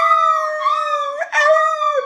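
A human voice imitates an angry pit bull, holding one long, loud, wavering howl that breaks briefly into a yelping wail before continuing.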